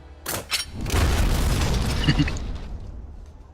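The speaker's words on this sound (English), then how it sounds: "That was an explosion." A fantasy explosion effect from a dragon-related battle scene bursts with a sharp crack and then a loud, sustained rumbling boom that slowly fades, with no one talking.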